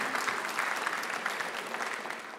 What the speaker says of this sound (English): Round of applause for the ECEPB graduates from March 2019.